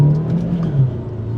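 A cheap $1000 car accelerating hard from 0 to 100 km/h, engine droning loud and close with a steady, slightly rising tone and no talk.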